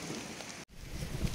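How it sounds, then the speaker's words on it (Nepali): Rain and hail patter steadily during a mountain trek, a dense hissing wash with a momentary dropout midway, faint and continuous throughout. "पानी पर्दैछ गाइजहरू पानी पर्यो असिना पर्यो"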